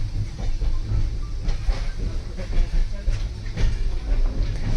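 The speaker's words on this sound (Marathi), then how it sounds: "स्लो स्लो चाललेली आहे रेल्वे" A train rumbles steadily along at low speed, with a deep continuous drone, faint rhythmic wheel clatter on the rails and a light hiss, no voices.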